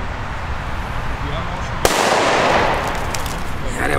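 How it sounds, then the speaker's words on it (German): A Fire Event D firecracker of the kind set off for New Year's goes off in one sharp, loud blast, followed by a lingering broadband rumble and crackle that slowly fades. "So, weiter geht's jetzt mit Böllern. Und zwar haben wir hier die Fire Event D."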